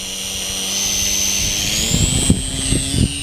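A Harbor Freight P-51 RC plane takes off from a muddy dirt field, its small engine holding a loud, high-pitched whine that climbs steadily in pitch as the throttle comes up, with some rumble and bumping underneath.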